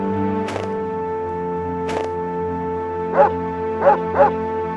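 Dog in the Mizzurna Falls video game barking two single sharp barks, then three quicker yips near the end, over a steady droning game music bed.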